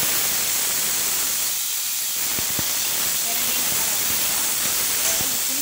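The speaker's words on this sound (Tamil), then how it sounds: "இந்த பிரண்டையும் அதோட போட்டு வதக்கிக்கலாம் பாருங்கள்" Pirandai (adamant creeper) sautés in a pan with urad dal and red chillies, giving a steady, close hiss throughout with a few faint clinks, while a voice talks over it.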